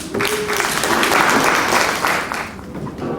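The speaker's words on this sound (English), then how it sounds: "Give a round of applause." An audience at a public health summit session applauds a presenter after an introduction, with steady broadband clapping that holds throughout and fades slightly at the end.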